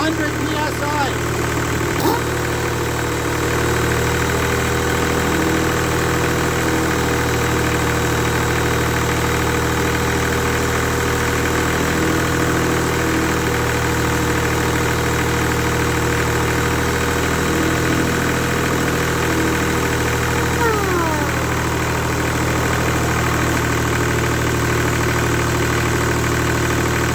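CompAir mobile compressor engine running steadily at 100 psi, a loud constant mechanical drone with a low throbbing hum and faint higher whine, with brief talk over it.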